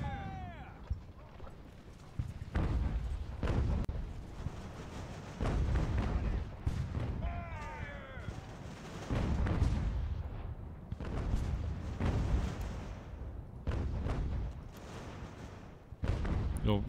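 Naval cannon fire in the Ultimate General: American Revolution game: heavy booming shots go off in scattered volleys, some near and loud, others fainter, amid battle noise, with someone talking over parts of it.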